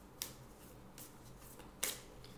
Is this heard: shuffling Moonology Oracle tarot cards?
yes